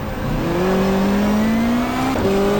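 A 1995 super touring race car in the GTR2 racing game drones loudly and steadily, with the pitch climbing and then dropping sharply as it shifts down to first gear approaching the slowest corner at Symmons Plains, with no talk.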